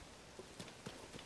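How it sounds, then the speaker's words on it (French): Rain falls in the video game The Legend of Zelda: Tears of the Kingdom, a faint, steady hiss of patter with a few soft drop-like ticks and no voices. "La pluie, c'est quand que tu t'arrêtes?"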